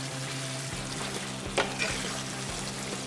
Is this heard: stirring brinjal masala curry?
yes